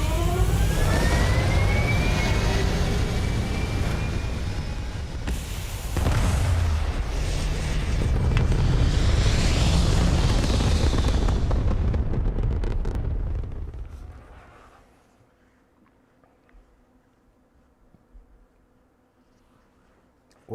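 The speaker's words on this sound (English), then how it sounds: "We have liftoff." A spacecraft lifts off in the video game Star Wars Genesis with a loud, dense roaring rumble that swells and holds for several seconds, then fades away to near silence.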